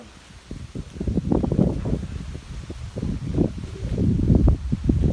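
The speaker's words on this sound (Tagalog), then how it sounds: "It's so windy" Gusty wind buffets the microphone outdoors during a blustery storm-driven week, rising and falling in irregular rumbling bursts with rustling, growing stronger toward the end.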